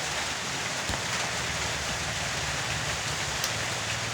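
Steady rain falls outside in cold weather, a dense continuous hiss of drops on surfaces with no pauses, fairly loud and close, with no talk over it.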